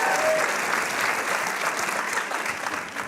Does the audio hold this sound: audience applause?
yes